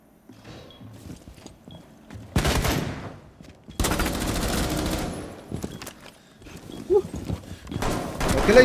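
Gunfire in Rainbow Six Siege, heard as two loud, dense bursts of rapid shots separated by short pauses, followed by quieter scattered clicks and movement noises.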